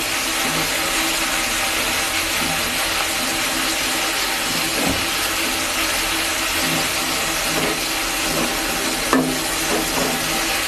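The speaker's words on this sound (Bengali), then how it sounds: "পেঁয়াজটা ভাজা হয়ে গেলে" Onion paste frying in a pan for a duck egg curry, giving a continuous close sizzle and hiss with occasional stirring scrapes, steady in level throughout.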